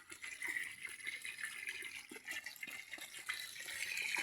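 Water pumped by a submersible motor pours into a tank or gallon container during palm-wine distilling, a steady splashing and trickling flow of moderate loudness with no voices.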